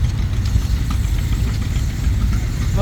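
A 1917 Nichols and Shepherd steam traction engine runs at a show, giving a close, loud, low rumbling chug with a steady irregular knock throughout.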